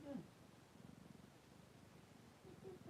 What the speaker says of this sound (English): I have my cat right here with me too.